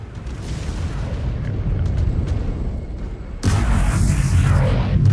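Missile strikes in the mech combat game Mechwarrior 5: Clans, a rolling barrage of heavy booms and crackling blasts that jumps abruptly louder and denser partway through, with no voices.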